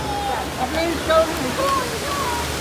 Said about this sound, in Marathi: पाऊस खूप जोरात येत आहे